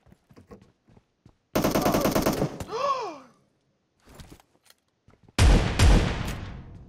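Gunfire from the mobile battle royale game PUBG Mobile comes as a dense burst of automatic fire, then a ricochet-like whine, scattered single shots and a final loud volley, with soft clicks between.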